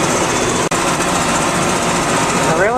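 An undertree orchard finishing mower cuts overgrown grass with a steady, loud, close engine drone that holds at a constant pitch throughout, broken only by one very brief dip.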